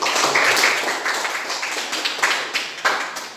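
Classroom applause from a group of students at the close of a lesson, dense overlapping hand claps sustained for a few seconds, fairly close and steady with a few sharper claps standing out near the end.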